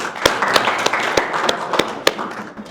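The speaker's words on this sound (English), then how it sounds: "Yeah, round of applause." Small audience at a company presentation giving a round of applause, scattered claps with a few sharp, distinct hand hits standing out over a continuous patter that fades near the end.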